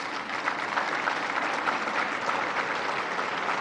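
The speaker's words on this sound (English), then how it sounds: "Give yourselves a round of applause." A large crowd applauds steadily at a political speech by Vice President Mike Pence in Council Bluffs, Iowa, with dense, even clapping throughout and no voices over it.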